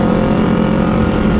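A Yamaha motorcycle engine on a foggy morning road gives a loud, close, steady droning rumble across the whole moment, with no talking.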